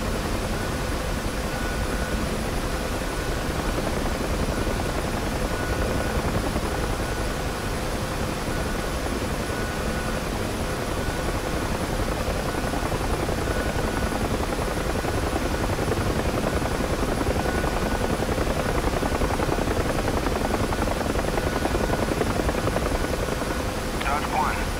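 A UH-1H Huey helicopter in the DCS flight simulator drones steadily with a dense rotor and turbine roar that stays loud and unbroken throughout, no speech in the mix.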